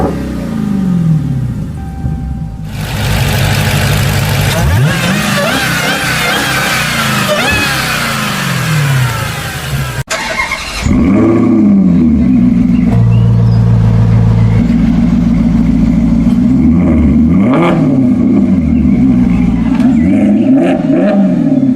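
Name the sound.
V8 engines revving, American cross-plane vs European flat-plane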